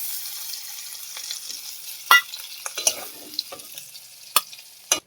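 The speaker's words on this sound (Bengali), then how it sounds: "চিংড়িটা ভাজা হয়ে গেছে, এবার তুলে নেব।" Fried shrimp being lifted out of hot oil in a kadai: a thin fading sizzle with several sharp metal scrapes and clinks from the spatula, near and otherwise quiet.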